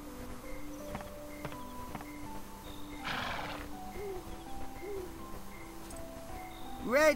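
In the Dragon Quest VIII video game, a horse gives a short whinny among clip-clopping hooves and soft game music tones, with a brief louder rising neigh at the very end.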